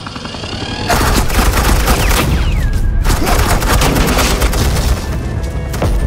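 Suppressing gunfire in the video game Batman The Enemy Within, a loud sustained volley of rapid automatic shots and booms that starts abruptly after a short lull and continues densely to the end.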